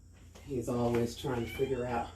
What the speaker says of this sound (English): sorry if you hear my cat crying.